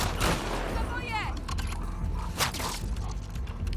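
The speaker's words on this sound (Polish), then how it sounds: "jeszcze strzały zasrane. Ja nienawidzę tych strzałów." Gunfire erupts in The Last of Us Part II video game, a few sharp shots and bursts cracking over a low, busy background of game sounds at fairly quiet overall volume.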